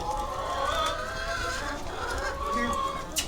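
Chickens cluck and murmur continuously at close range in a poultry yard, a steady flock chatter with a few sharper calls and no voices over it.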